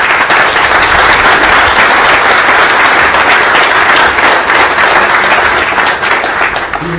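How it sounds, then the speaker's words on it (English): A crowd gives a sustained, rousing round of applause at a public redevelopment announcement in Springfield, dense steady clapping filling the room from start to finish. "I think he deserves a rousing round of applause."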